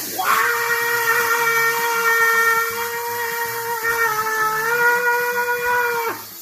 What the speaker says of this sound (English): Steam, that's exciting.